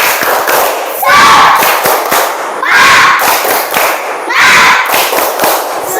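Schoolchildren in a fourth-grade classroom perform the tepuk semangat clapping chant: sharp rhythmic claps punctuated by three loud bursts of shouted group chanting, close and energetic.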